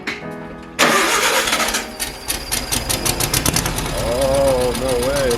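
An old Volkswagen Beetle engine with a newly replaced generator cranks and catches, then settles into a loud, close, uneven air-cooled idle with knocking pulses, while people talk over it.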